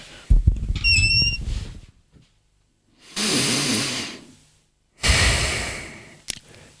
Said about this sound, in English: So here's what diaphragmatic breathing looks like.